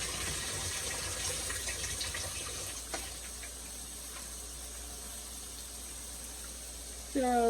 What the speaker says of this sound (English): Just a drop of water.